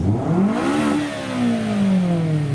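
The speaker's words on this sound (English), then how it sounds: "Can you rev it? My girlfriend wants to hear it." Car engine revved at a car show, a loud close rise in pitch that peaks then falls away slowly, one sustained rev with crowd ambience behind.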